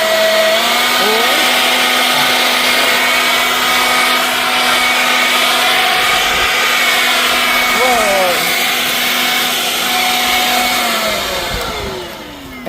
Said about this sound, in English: it's a very economical roof blower